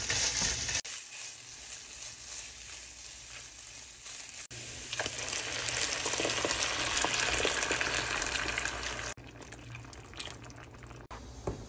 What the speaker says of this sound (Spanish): Le vamos a poner ya la cebolla.